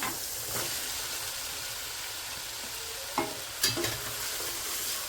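Pumpkin frying and being stirred in a pan, a steady close sizzle with a few louder scrapes and knocks of the spoon near the end.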